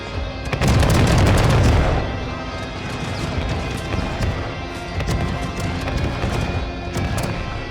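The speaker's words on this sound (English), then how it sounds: "A couple of devastating volleys were interchanged." Musket volleys crash in a 1634 pike-and-shot battle at Nördlingen in Total War, with a heavy booming burst of massed fire followed by continuous crackling shots and distant battle din.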